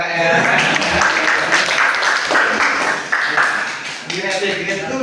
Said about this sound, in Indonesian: tepuk tangan untuk kakaknya.